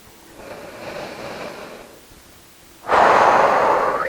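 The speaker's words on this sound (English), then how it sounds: "begin to breathe a little deeper" A person breathes deeply: a slow, soft inhale followed after a pause by a louder, rushing exhale, close and alone.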